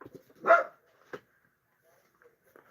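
A single loud dog bark indoors, followed by a shorter, fainter yelp and a few scattered soft noises, with no talking over it.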